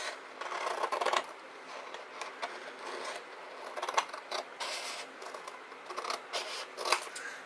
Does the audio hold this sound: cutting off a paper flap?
yes